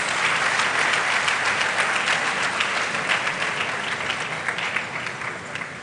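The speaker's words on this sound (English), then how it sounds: "Another round of applause." A large audience applauds steadily and loudly after a public lecture at a university, with dense continuous clapping that stays full throughout before thinning slightly near the end.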